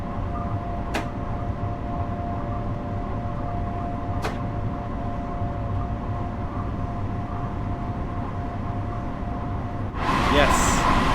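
MTA M7A electric commuter train on the Harlem Line in Train Sim World 5, a steady rumbling run with a constant tonal whine, two brief sharp clicks, and a louder hissing burst near the end.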